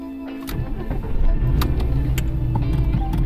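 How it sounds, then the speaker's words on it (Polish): A VW Bora 2.3 V5 engine cranks and catches, then settles into a loud, steady idle close by. "uruchamia silnik"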